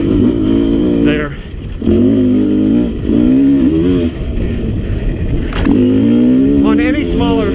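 A 2017 Sherco 300 SE-R dirt bike engine holds a steady, loud drone while climbing a tight, steep trail in one gear, its pitch rising and falling with throttle, close to the rider throughout.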